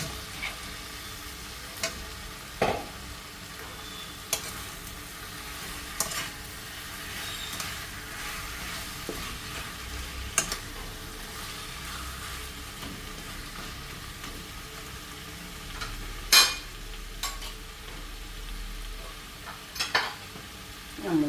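Sliced capsicum fries in oil in a pan, a quiet steady sizzle broken by scattered scrapes and clinks of a spoon stirring, with no talking.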